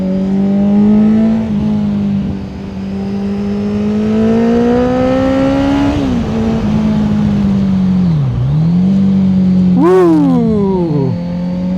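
A car engine held in second gear without shifting, droning loud and close as it climbs and falls in pitch through repeated revving, with a sharp rev burst near the end.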